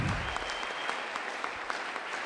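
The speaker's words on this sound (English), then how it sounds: "So he deserves a round of applause." An audience at a wrestling hall of fame ceremony in 2015 gives steady, dense applause. The clapping is loud and sustained, with individual claps standing out on top, and no voices are heard.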